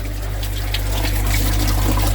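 Water pump running with water flowing through it, a loud, steady rushing and gurgling over a constant low motor hum.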